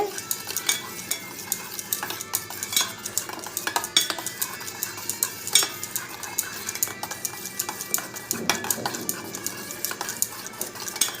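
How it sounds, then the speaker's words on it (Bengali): Yogurt with a little coriander powder is whisked briskly in a bowl, the utensil knocking and scraping against its sides in a quick, uneven stream of close clinks. "তারপর সেটাকে ভালো করে ফেটিয়ে নিচ্ছি দইটাকে।"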